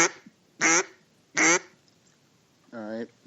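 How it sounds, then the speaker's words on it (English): A hand-blown duck call sounds three loud, separate quacks close to the microphone, each a short nasal blast with pauses between. "But here's a quack."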